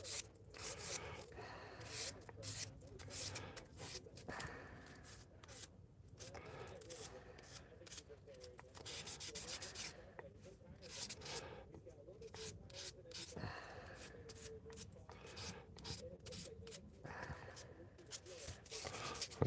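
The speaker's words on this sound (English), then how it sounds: "I keep forgetting I'm doing off camera sanding." Wood is sanded by hand in quiet, uneven strokes of scratchy rubbing. The strokes come in irregular bursts with short pauses, faint and close.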